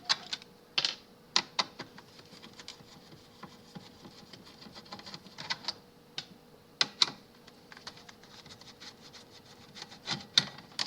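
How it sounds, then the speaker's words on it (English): Small screws are taken out of the back of a Dell E198FPf computer monitor, giving sparse, close, sharp clicks and ticks over a quiet bench. "On the back, 4 small screws, which I take out."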